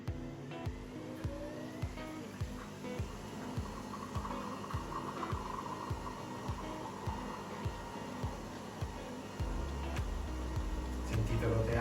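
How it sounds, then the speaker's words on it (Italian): A Nespresso Vertuo coffee machine brewing with its capsule spinning, a steady low hum and throb with a regular pulsing rhythm, close and continuous, louder toward the end. "Basta premere il tasto e la macchina si avvia in automatico, farà un rumore molto particolare, a me ricorda la lavatrice"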